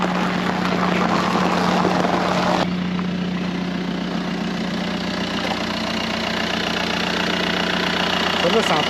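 A BMW 525 TDS diesel car engine idles loudly and steadily nearby with a low, constant rumble, and indistinct voices can be heard over it.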